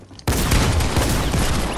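A sudden burst of dense, loud automatic gunfire erupts after a quiet instant in the Fortnite video game and rattles on nonstop at close range.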